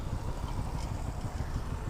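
Continuous low rumble of road traffic, engines droning steadily close by with a motorcycle-like idle, no voices.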